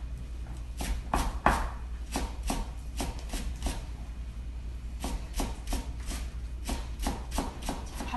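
A knife chops chives coarsely on a cutting board for cucumber kimchi, with steady, fairly close rhythmic blade thuds that come in bursts with brief pauses.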